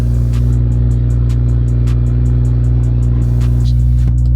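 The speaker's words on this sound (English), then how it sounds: "Damn, shit hella loud. I forgot there's no cold start delete on this tune." Tuned BMW M340i without a cold start delete, idling high and very loud right after a cold start, a dense steady rumble with faint rhythmic ticking and clatter throughout.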